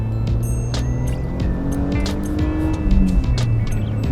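A BMW E46 325i engine roars steadily and loudly as it accelerates, its revving note rising and swelling toward the end, heard from inside the cabin.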